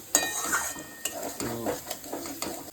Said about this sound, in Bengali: আলুটাকে ভালো করে একটু কষিয়ে নিই ভালো করে কষিয়ে নিয়েছি